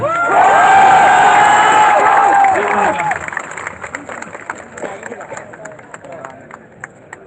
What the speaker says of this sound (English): A big round of applause for Uza Ruben.